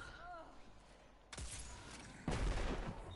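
Gunfire in the first-person shooter Destiny 2 on PS4: two sharp, loud shots about a second apart, each with a short tail, while players chat over voice.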